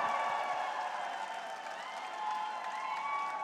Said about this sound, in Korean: 박수를 보내주십시오